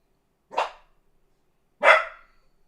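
A dog barks twice, short sharp woofs about a second apart, fairly close and clear against a silent background.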